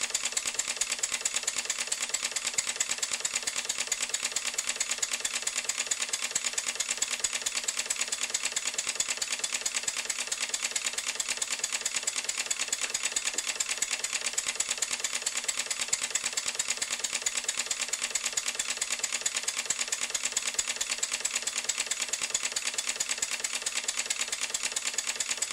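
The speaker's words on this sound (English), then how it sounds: "When the engine runs slowly, it sometimes sounds a little bit like a train." A model steam engine running slowly gives a steady, even mechanical chuffing and clatter, close and continuous, with no voices.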